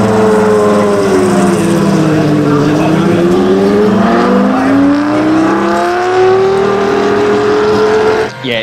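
A Formula Supra race car engine at World Time Attack, heard from a crowded pit area, holds a loud sustained drone whose pitch dips and then climbs steadily as it revs, continuous throughout.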